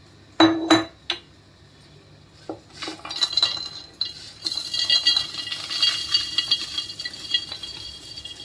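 Crunchy fried makhana (fox nuts) are tipped into a storage jar: a few sharp clinks, then a sustained rattling patter of pieces tumbling in, close up and without talk.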